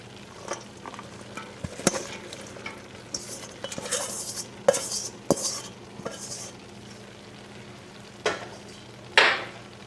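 Cabbage, bamboo shoots and bean sprouts stirred in a hot pan for Indonesian cooking, a utensil scraping and clinking against the metal in irregular strokes over a soft sizzle, close and moderately loud.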